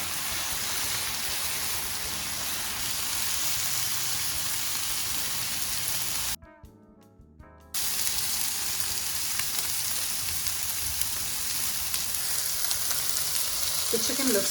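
Chicken strips fry in a pan with olive oil and honey, giving a steady, close crackling sizzle that holds throughout, cut by a short silent gap midway before resuming at full level.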